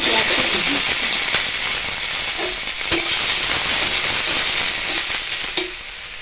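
Chopped onion sizzles loudly in hot mustard oil in a kadai. The hiss is steady and bright throughout, with a few soft stirring clicks, while a voice talks quietly underneath.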